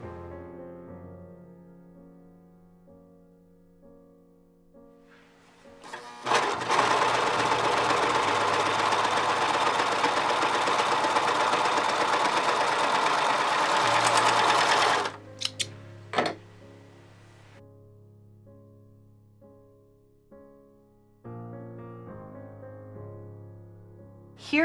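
A 1034D serger overlocker stitching stretch fabric: a loud, steady mechanical whir running about nine seconds, then quick stop-start bursts, between quiet stretches with soft background music.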